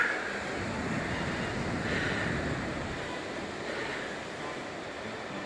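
Waves and wind at Praia da Lanzada beach near Sanxenxo, Galicia: a steady, continuous surf roar mixed with buffeting wind noise, with no voices.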